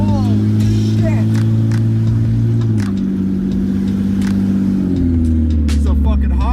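A BMW 328is M Sport with a leaking valve cover gasket drones loudly from inside the cabin on its first drive, engine pitch shifting up and down through gear changes, steady and close, while people talk over it.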